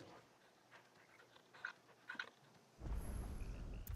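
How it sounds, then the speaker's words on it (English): A dog panting softly while being petted in Final Fantasy XVI, with light rhythmic breaths that swell into a louder, denser close sound near the end. "Pet the doggy."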